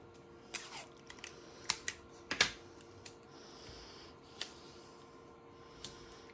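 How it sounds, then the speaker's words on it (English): Tape is pulled and pressed down to hold sublimated fabric in place on a junk journal cover, giving a few scattered, sharp, close clicks and crackles over a quiet background. "So now I'm just going to tape this in place."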